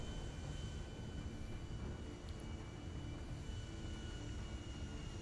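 An airplane flies in the video game GTA V during a meteor shower, a dense, steady engine roar with constant broadband rushing throughout, no talking.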